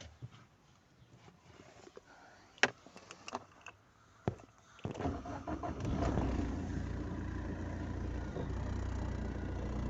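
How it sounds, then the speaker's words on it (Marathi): A vehicle engine cranked and started after several sharp clicks and knocks, catching into a steady, vibrating idle rumble that carries on close by. "तर चला आपण गाडीला स्टार्ट करूया"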